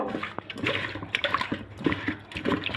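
Water splashes and runs over raw rohu fish being rubbed with lemon juice and salt, a close, continuous wet sloshing with irregular bursts and no talking.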